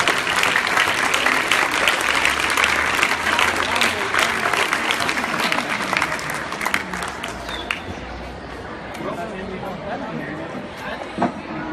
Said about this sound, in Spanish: un fuerte abrazo y un aplauso para nuestro gobernador del estado